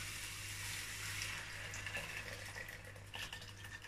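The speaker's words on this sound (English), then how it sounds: "I'm going to add the stock." Chicken stock pours steadily into a pot of rice, a continuous gushing splash that keeps going for several seconds at close range.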